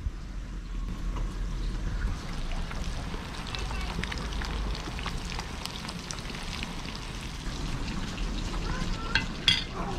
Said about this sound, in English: Let's let the eggs cook a bit.